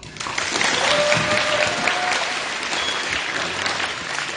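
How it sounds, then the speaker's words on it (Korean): A crowd at a high-school arm-wrestling competition opening in Busan bursts into loud, dense applause, a steady roar of many hands clapping that holds for about four seconds. "자, 박수!"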